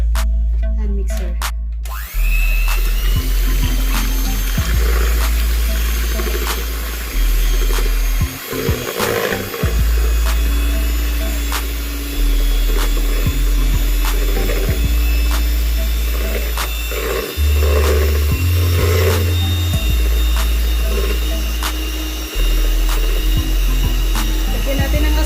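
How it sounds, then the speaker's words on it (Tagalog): An electric hand mixer beats six egg whites in a bowl, a loud continuous motor whir with shifting pitch and brief pauses as the speed changes. "Lagay lang natin ang ating 6 egg whites. Gamitan natin ng electric hand mixer."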